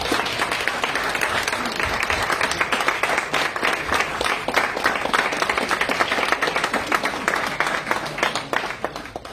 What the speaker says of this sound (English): you all deserve a very big round of applause